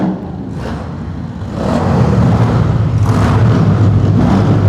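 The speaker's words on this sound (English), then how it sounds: "let's crack this open so we can hear some engine sounds" A heavy motorcycle engine idles low, then swells into a louder, sustained rev that holds steady, heard up close with no talking over it.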